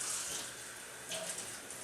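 Cold tap water runs steadily over cheesecloth being rinsed, a soft continuous hiss of flowing water close by with slight splashing changes, no voices.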